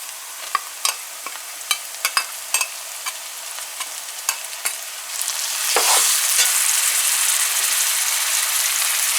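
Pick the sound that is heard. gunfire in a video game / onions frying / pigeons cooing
onions frying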